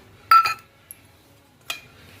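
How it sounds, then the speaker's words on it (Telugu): A few small clinking knocks as garlic cloves drop into a hard blender bowl, a quick pair followed by a single tap, close and fairly soft. "బ్లెండర్ గిన్నెలో మూడు ఎల్లిగడ్డలు వేసేసుకుందాం"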